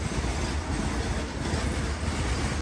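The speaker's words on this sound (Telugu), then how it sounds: "ఈ బొగ్గు గూడ్స్తో మాకు క్రాసింగ్ అయితే పడింది." A coal-laden goods train rolls past at a railway crossing, a loud continuous rumble with wheel clatter and a faint metallic squeal, steady and close throughout.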